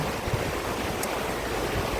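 A mountain river in the Hautes-Alpes rushes steadily nearby, a dense, even wash of flowing water with no voices.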